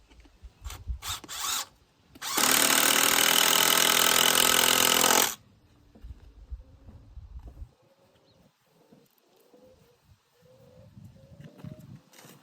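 A cordless power drill drives screws into wooden posts outdoors at a vineyard, giving a loud, close, continuous whir for about three seconds, framed by quieter handling knocks and shuffles before and after.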